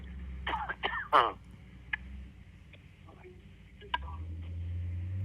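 A man on a phone call clears a tickle from his throat in a few short, rough bursts close to the microphone, followed by quieter small sounds and a low hum.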